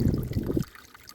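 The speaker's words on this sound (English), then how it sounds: "it's a bit of muddy water coming out of there, look" Muddy water trickling out of a combine header auger, a close, bubbling dribble for about half a second that then drops away to a faint trickle.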